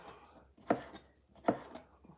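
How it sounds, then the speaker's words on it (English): Two sharp knife chops through pickles land on a cutting board, about a second apart, with quiet kitchen background between them. "So now we're just chopping up our pickles"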